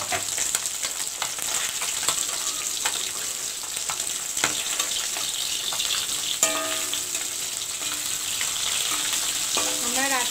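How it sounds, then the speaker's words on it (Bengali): Fish frying in oil in a pan in a home kitchen, a steady loud sizzle and crackle running throughout with occasional sharp pops and faint clinks, no speech. "ভাজা বসিয়ে দিয়েছি"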